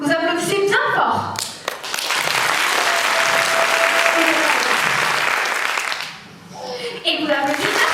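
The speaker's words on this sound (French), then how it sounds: "Alors quand je lève le bras, vous applaudissez bien fort." A theatre audience at a live stage show claps loudly on cue, a dense sustained wave of applause that swells and then fades, with a few voices speaking briefly before and after.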